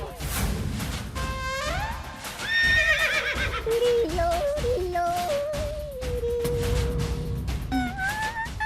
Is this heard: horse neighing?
yes